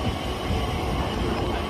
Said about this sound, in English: Another train coming in. This train is a 345 to Abbey Wood by Canary Wharf.